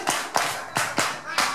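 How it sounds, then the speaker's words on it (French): A few hands clap in a slow, uneven rhythm, five crisp separate claps at moderate volume with no continuous crowd noise between them. "Alors, tout le monde, on applaudit pour lui."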